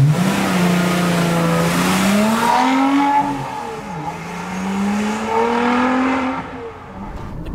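A Lotus Exige 350 sports car driven hard on the track at Goodwood, its engine note loud and close, rising and falling through revs and gear changes with a steady mid-pitched roar.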